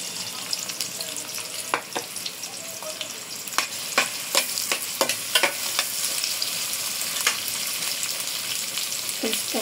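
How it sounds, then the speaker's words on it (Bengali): About 1.5 cups of onions sizzle steadily in hot oil in a pot for a beef and potato curry, with a close, continuous hiss broken by sharp clinks and scrapes of stirring. "তেল গরম হয়ে গেছে, পেঁয়াজ দিয়ে দেব 1 কাপের থেকে বেশি"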